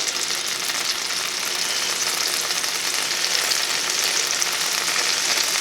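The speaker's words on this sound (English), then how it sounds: "Now that the butter is melted, we will put in the garlic." Garlic sizzles in melted butter with a loud, dense, steady hiss that carries on unbroken from start to finish, with no talking over it.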